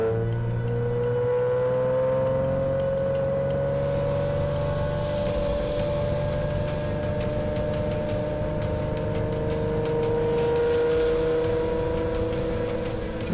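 A Pagani Zonda with its V12 engine drives past. It gives a steady, loud, sustained drone with a slowly rising pitch, like a smooth pull under acceleration, and it runs alone without speech.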